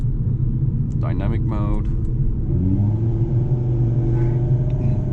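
An Audi R8 V10 Plus with manual gearbox rumbles steadily from inside the cabin with the windows open, a deep continuous engine drone that rises slightly toward the end, while someone speaks briefly over it.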